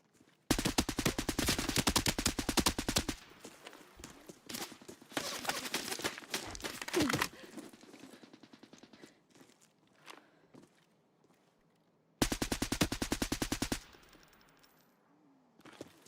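Automatic gunfire from a weapon in a first-person shooter game, two long rapid bursts near and loud, separated by scattered single shots and footsteps, then quiet.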